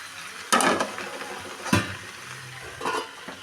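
A lid is set over a pot of simmering vegetarian greens, making three separate clanks and scrapes against faint background noise.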